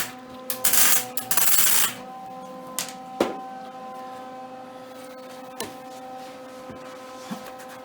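Welding on a Grizzly frame in a workshop: two short bursts of harsh hissing crackle near the start, then scattered sharp clangs and ticks over a steady electrical hum, fairly close and loud with no talking.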